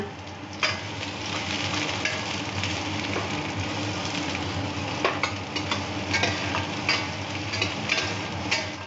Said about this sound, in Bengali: পেঁয়াজটা হালকা করে একটু বাদামি করে ভেজে নিয়েছি